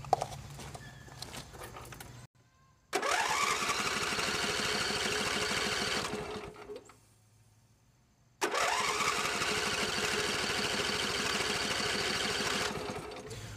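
An engine cranks with a cheap fuel pump in two bursts of about five seconds each, a rapid rhythmic chugging starter sound separated by short silences, fairly loud and close with no talking.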